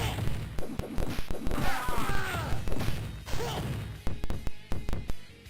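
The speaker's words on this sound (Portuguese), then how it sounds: "São 3 tiros na sequência." Rapid sharp impact bursts from the arcade beat 'em up Cadillacs and Dinosaurs, with enemy gunshots landing in quick succession amid dense game clatter, swooshes and thuds throughout.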